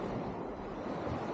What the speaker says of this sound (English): We'll give it a big push out and we'll get it past these waves.